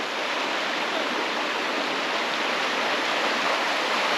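A mountain river near Orsigna, Italy, rushes over rocks in a steady, loud, full wash of flowing water, unbroken and close by.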